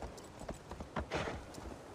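A horse's hooves clip-clop in a video game, several quick, irregular strikes landing close and fairly quiet over a faint background hiss; no talking.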